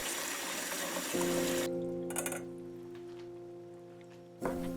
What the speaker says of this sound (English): I drain them and I rinse them with cold water.